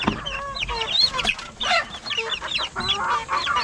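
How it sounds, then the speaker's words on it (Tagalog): A group of week-old chicks peeps and clucks busily up close while being given wet feed, with rapid, overlapping chirps throughout. "So ito yung mga week old natin."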